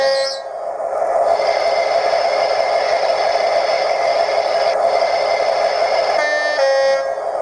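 Model railway locomotive horns play through a Megabass speaker, sustained tonal blasts over a steady hum of idling sound, with a brief higher note near the start and another short horn toward the end, loud and close.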